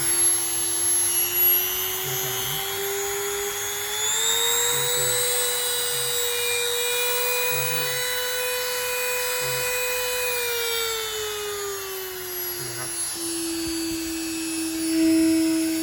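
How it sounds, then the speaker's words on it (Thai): A BERALA multipurpose rotary grinder running at speed two: a steady, high-pitched motor whine that holds for about sixteen seconds with slight rises and dips in pitch. Close and continuous, with no talk. "เราก็ใช้ ตัดงานขัดงานเล็กๆได้เลยนะครับ"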